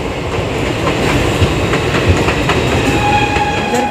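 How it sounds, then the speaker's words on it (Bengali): Howrah–Puri Jagannath Express train rolling into Santragachi junction station, a loud steady rumble with rhythmic wheel clatter over the rails and faint squeals, no voices. "আমাদের ট্রেন কিন্তু এখন এসে দাঁড়ালো সাতরাগাছি স্টেশন"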